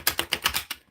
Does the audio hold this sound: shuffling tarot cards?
yes